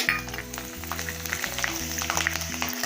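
Dried vathal for kuzhambu fries in a pan, giving a steady close sizzle with crackles and stirring scrapes and no talking.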